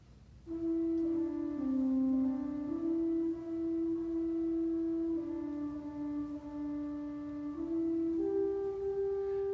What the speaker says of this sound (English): I get what we call a flute, a very soft, pretty sound.